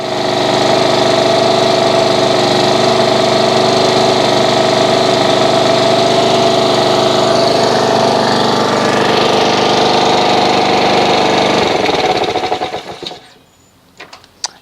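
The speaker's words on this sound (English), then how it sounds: "I'm going to show you that next when I have the engine actually running" A Honda HRX217 walk-behind lawn mower engine runs loud and close at a steady pitch for about twelve seconds, then is shut off and winds down, ending in near silence with a faint click.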